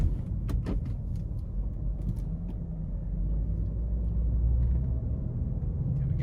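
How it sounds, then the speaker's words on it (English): A 2017 BMW X5 xDrive35i with its 3.0-litre turbocharged inline-six and 8-speed automatic accelerates onto an interstate, a steady low engine and road rumble filling the cabin with a few faint clicks and no talk. "gonna put my foot into it and just see how it gets up to speed as we get on the interstate here"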